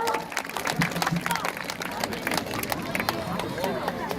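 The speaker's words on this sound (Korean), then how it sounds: "여러분의 뜨거운 박수로 모시겠습니다. 박수 주세요" Scattered clapping from an audience at a Korean speech contest, uneven and moderately loud, mixed with crowd murmur and a voice.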